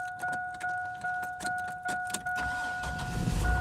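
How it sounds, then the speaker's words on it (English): A car engine starting in the early morning before work: a series of rhythmic cranking pulses with a steady chime tone over them, then the engine catches into a low idle rumble, close by with no talk. "All right, the car is started."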